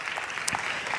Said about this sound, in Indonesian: kita kasih tepuk tangan dulu bagi Tuhan